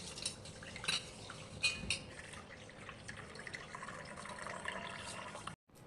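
Rice rava being washed in water in a pot, with quiet sloshing, drips and occasional clinks of a metal vessel, close and soft, ending abruptly.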